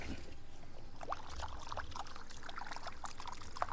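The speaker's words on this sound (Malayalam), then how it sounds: "നല്ല വെള്ളത്തിൽ ഒന്ന് കഴുകി വൃത്തിയാക്കി എടുക്കണം" Water sloshes and pours steadily with small splashes and dribbles, close by, as raw chicken is rinsed by hand; no voices.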